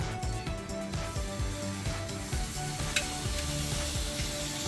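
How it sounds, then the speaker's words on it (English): Steak sears in hot olive oil in a HexClad pan on medium heat, giving a continuous close crackling sizzle with small pops and spits throughout. "oh yeah, listen to the sizzle"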